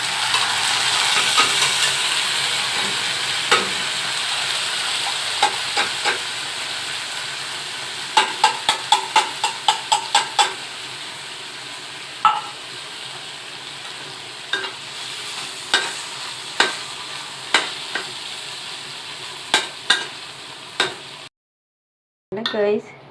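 Canned sisig frying in a pan: a soft continuous sizzle broken by frequent sharp scraping clicks of stirring, ending in a brief silence and a short burst.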